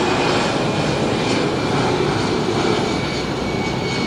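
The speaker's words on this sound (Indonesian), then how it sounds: "Nah, tuh ada Air Asia naik" Air Asia passenger jet taking off near a Bali beach club, a loud, steady engine roar filling the whole stretch without breaks.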